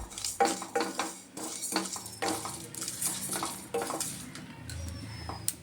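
A spatula stirs and scrapes cumin, coriander, fennel, whole garam masala, white sesame and two dried red chillies dry-roasting in a wok, with steady clattering strokes and a faint sizzle close by.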